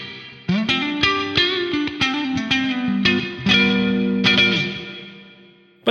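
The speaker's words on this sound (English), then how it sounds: "That's pretty clean for a Vox AC30" Electric guitar played through a clean Vox AC30 amp model with a chiming tone, ringing chords and picked notes washed in echo and chorus, no voices.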